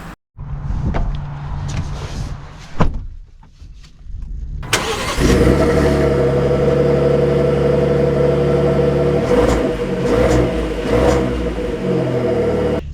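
A 2024 Ford F-150 Tremor pickup sits quiet at first with a few clicks and a low hum. Its engine then fires up abruptly and runs loud and steady, swelling slightly as it pulls away.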